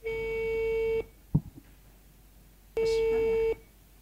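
An unanswered telephone call gives two long, steady ringback beeps, each about a second long, with a brief bit of speech and handling noise in the gap between them.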